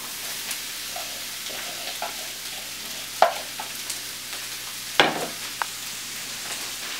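Onions sauté in a hot pan at a family breakfast, giving a steady close sizzle and crackle with a few sharp scrapes and clinks of a utensil stirring, and no talking.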